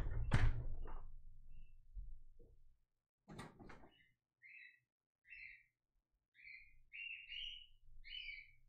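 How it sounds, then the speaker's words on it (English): A few loud knocks, then a series of short, high chirping calls from parrots, repeated in bursts with quiet gaps between them. "Those are my parrots fucking going."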